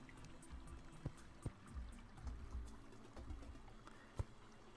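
Flowing, pouring water in the video game Terraria, a quiet steady trickling wash broken by a few short soft knocks, with no talk over it.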